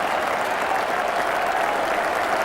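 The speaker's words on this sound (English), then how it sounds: "A standing ovation and applause from everyone on the field in the Australian side." Crowd applause at a cricket match as a batsman reaches his hundred, dense sustained clapping from a large crowd giving a standing ovation, loud and even throughout.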